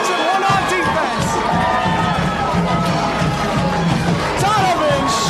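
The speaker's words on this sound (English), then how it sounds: "the crowd going nuts as well" A football crowd roars and cheers after a touchdown for Clifton against Hackensack, loud and sustained throughout, with excited play-by-play commentary running over the noise.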